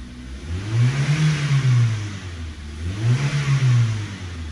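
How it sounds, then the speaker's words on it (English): A 2002 Toyota Premio engine with a P0171 lean fault revs up twice, the pitch rising and falling in two smooth swells over a steady idle, close and fairly loud. "So I rev up the engine little bit"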